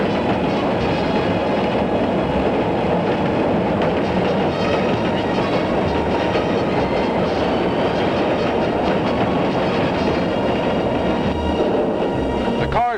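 Third Avenue elevated train rumbling past close to tenement buildings, a loud continuous roar of wheels and rattling cars with clickety-clack and a faint squeal near the end.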